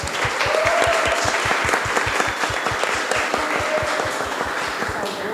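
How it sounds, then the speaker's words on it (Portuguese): Audience applause for an assistant film director at a cinema event, with steady crowd clapping and a strong regular beat of rhythmic claps running through, a faint voice briefly audible over it. "Palmas para a Luara."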